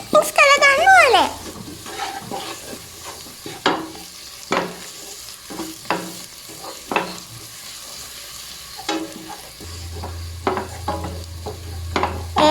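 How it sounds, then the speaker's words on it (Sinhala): Salt and chili being stirred into tempered mushrooms in a pan, a light frying sizzle under repeated scraping and clinking strokes of a spoon, with a brief voice near the start. "දැන් මේ ටිකත් හොඳට මික්ස් කරගන්න ඕනේ."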